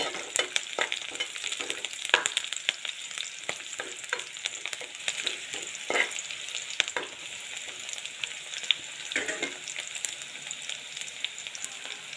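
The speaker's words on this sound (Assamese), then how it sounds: "আৰু পিঁয়াজখিনি ৰঙা হোৱালৈ মই ভাজি থাকিম।" Onions sizzling steadily in hot oil as they turn red, a dense frying hiss with frequent small pops and scraping stirs, close and unbroken, nobody talking.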